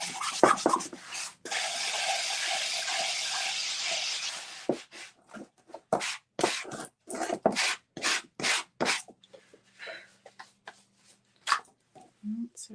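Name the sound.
sanding wood by hand with sandpaper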